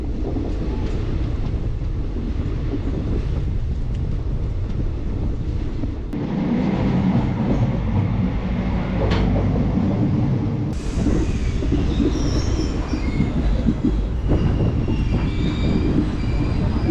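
Bilaspur–Korba passenger express train rolling along the track, a steady loud rumble of wheels and carriage rattle with wind noise throughout and faint squeals and clanks later on, heard from inside a coach.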